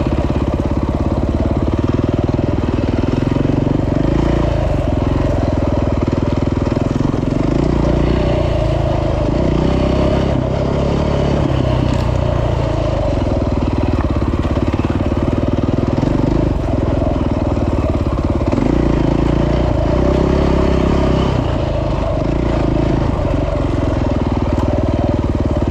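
A custom KTM 450 EXC adventure motorcycle rides a sandy trail, its engine a loud, close, continuous drone that rises and falls with the throttle throughout, accompanied by wind rush.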